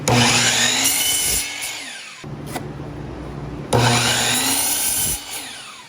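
A power saw cuts wooden boards for a portable potting station, two loud harsh cuts each lasting about a second and a half, separated by a quieter pause with the motor winding down, no talk.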